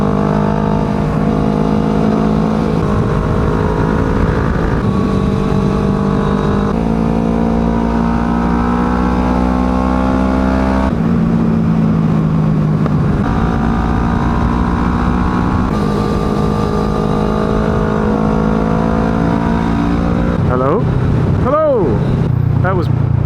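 Sports tourer motorcycle ridden hard at speed on a Croatian road between Zadar and Zagreb, its engine note rising and falling steadily through gear changes amid heavy wind rush, loud and continuous throughout.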